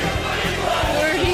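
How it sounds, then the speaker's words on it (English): A happy crowd of Bengals football fans shouts and cheers in a brief, loud burst of massed voices after a 33-31 win over the Steelers. "Yeah, happy crowd of Bengals fans."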